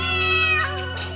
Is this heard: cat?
yes